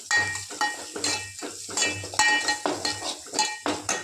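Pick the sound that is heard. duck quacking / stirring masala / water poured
stirring masala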